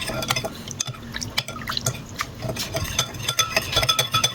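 Coconut milk and sugar being stirred in a pot for suman, with steady close scraping and sloshing liquid sounds and small drips throughout, no talk.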